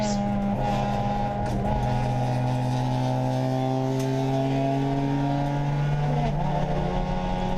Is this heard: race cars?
yes